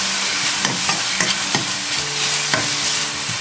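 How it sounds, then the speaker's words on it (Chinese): Mushrooms, garlic scapes and pork stir-fried quickly in a wok with salt, soy sauce and oyster sauce: loud, close sizzling under repeated scraping tosses of the spatula, with no one speaking. "然后迅速的把它们翻炒在一起，"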